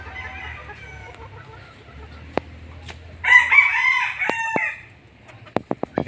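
Young Gilmore Hatch gamefowl on a farm let out one strained, youthful crow, preceded by quiet clucking and low background hum, with a few sharp clicks and knocks scattered around it.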